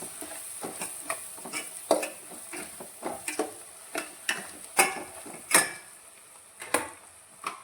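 Beef pickle masala with chili powder, Kashmiri chili and asafoetida being stirred in a pan, a run of repeated scraping strokes with sharp clicks and a light sizzle beneath, close and fairly loud.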